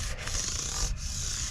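Fine-grit sandpaper, around 2500 grit, smoothing the fret ends on a guitar neck, making a steady, close rubbing hiss in continuous strokes with no talking.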